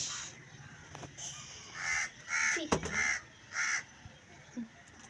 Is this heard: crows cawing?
yes